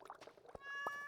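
A cat in the video game Stardew Valley gives a single clear, drawn-out meow that rises from quiet game sounds and soft background noise.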